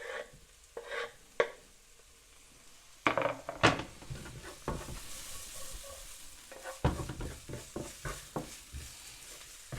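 Chopped capsicum and jalapeno sizzle in a hot pan as a utensil stirs and scrapes them, with irregular knocks and clatters over a soft, continuous frying hiss.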